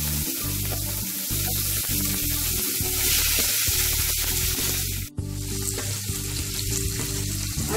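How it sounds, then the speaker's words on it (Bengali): Chopped onion sizzles loudly in oil left over from frying Bata fish, a dense, steady crackle with occasional stirring, close up and without talk. "মাছ ভাজা তেলটার মধ্যে আমি পেঁয়াজ কুচি দিয়ে দিচ্ছি"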